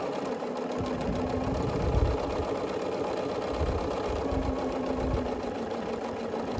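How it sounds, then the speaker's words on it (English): A sewing machine runs steadily, stitching the petals of a Dresden plate quilt block together for a quilted table topper, a continuous close whirring motor hum with a fast needle rhythm and no talk. "Just sewing all the way around this Dresden until all of the petals are hooked together."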